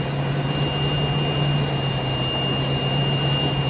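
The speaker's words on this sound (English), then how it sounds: "we're definitely getting some air vacuum here that's coming out" Steady rushing air drawn through a vacuum line on a motor home during mechanical troubleshooting, a continuous close hiss with a low steady hum and a faint high whine, no talk.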